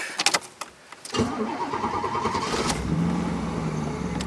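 1989 Pontiac Trans Am with a 350 TPI V8 being started: a few clicks and cranking, then the engine catches with a loud burst and settles into a steady, rumbling idle nearby.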